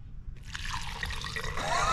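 Pour-over coffee trickles through grounds into a cup, a steady soft liquid dribble that starts after a brief quiet moment and continues close and alone.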